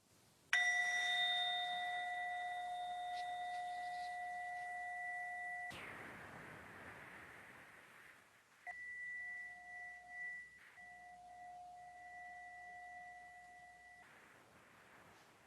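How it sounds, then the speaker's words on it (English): A meditation bell is struck twice. Each strike rings out with a bright, clear tone that hangs for several seconds and slowly fades in a quiet room. "I'm going to ring the bell"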